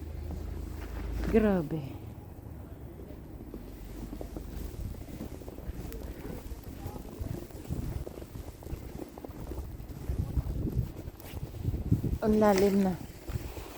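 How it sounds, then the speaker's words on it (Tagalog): Strong wind during a night storm blows as a steady rushing roar with gusts against the microphone, while people talk briefly near the start and near the end. "Look at that weather. So windy."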